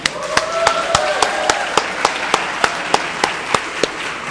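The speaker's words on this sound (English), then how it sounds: "we can all clap for you" Audience at a city Innerbelt master plan presentation applauding staff members, a steady wash of clapping punctuated by evenly spaced sharp claps, close and sustained throughout.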